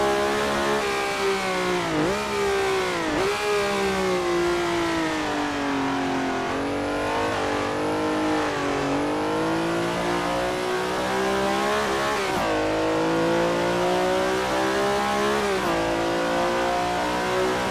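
A 1960s sports car revs and accelerates hard in an Assetto Corsa race, the loud engine climbing in pitch, dipping on gear changes around 2 and 3 seconds, then pulling steadily again and continuing to roar.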